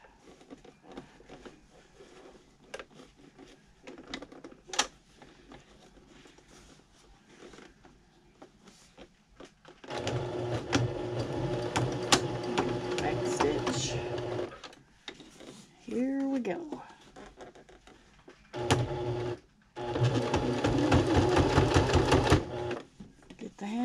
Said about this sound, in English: Now we got to sew this